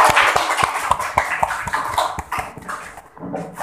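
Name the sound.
classroom applause for group 1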